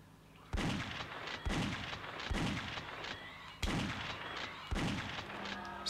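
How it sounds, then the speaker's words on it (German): Gunshots from the 1996 PlayStation shooter Alien Trilogy boom out about five or six times at irregular intervals, loud and sharp, with no talking over them. "Es waren fünf oder sechs Schüsse."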